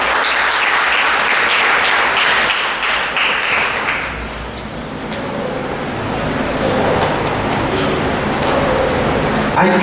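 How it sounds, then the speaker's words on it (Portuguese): Church congregation clapping together, loud and dense for several seconds, then dipping and continuing more loosely under a murmur of voices. "Vamos aplaudir eles."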